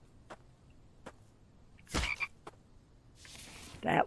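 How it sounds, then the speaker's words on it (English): A frog croaks outdoors, a few sparse clicks and one loud close croak, followed by a final burst of croaking against a quiet background. "I hear another frog."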